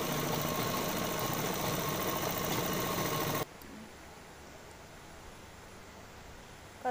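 A sewing machine runs steadily and loud while stitching a side seam on a kurti, a continuous whirring drone that cuts off abruptly halfway through, leaving faint room hiss.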